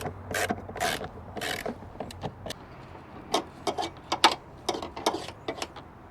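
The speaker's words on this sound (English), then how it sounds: "Once you got them all started, tighten them down." Screws tightened with a ratchet while replacing the air filter on a GMC Acadia, giving bursts of quick clicking ratchet strokes separated by short pauses, close up with no talk.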